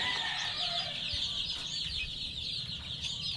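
Young chicks in a poultry brooder keep up a continuous, dense chorus of high peeping and clucking, steady and fairly close, with no voices.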